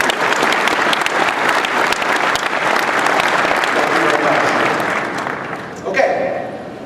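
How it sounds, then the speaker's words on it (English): A large keynote audience at the Cisco Partner Summit 2014 applauds in a dense, steady roar of clapping that holds for several seconds, then thins out as a voice comes in near the end. "just give a big hand of applause to the 500 learning partners that we have around the world"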